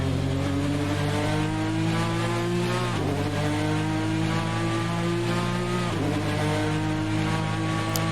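A GTLM race car laps Watkins Glen in the Assetto Corsa video game, its engine howling loudly as it revs up through the gears. The pitch drops sharply at each of two quick upshifts, and no one speaks.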